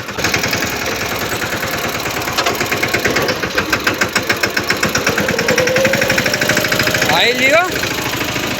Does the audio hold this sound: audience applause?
no